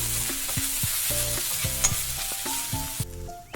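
Onion, green chili, chopped ginger, chopped garlic and curry leaves fry in oil for masala dosa filling, giving a steady close sizzle with stirring scrapes, while a melodic tune plays underneath throughout.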